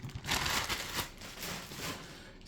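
A plastic bag around a boxed anime figure being opened from the bottom, giving close, soft crinkling and rustling that continues for a couple of seconds without speech.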